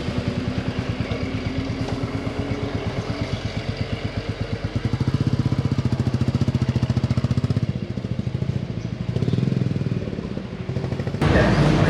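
A Royal Enfield Classic 350 motorcycle is ridden, its single-cylinder engine thumping in a steady close pulse that swells as speed rises, with wind noise and a brief clatter near the end.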